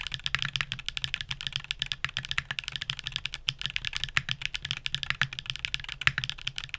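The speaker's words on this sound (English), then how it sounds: "Now, here's the sound test." Rapid, steady typing on a keyboard fitted with Hall effect switches, a dense run of close, crisp key clacks with no voices over it.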